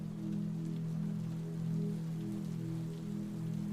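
Gentle rain falls in a soft, steady patter, faint and even throughout, with a low constant hum beneath it.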